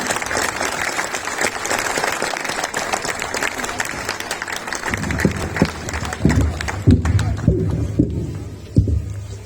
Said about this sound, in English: So with a big round of applause, let us welcome our dear Madam Dean.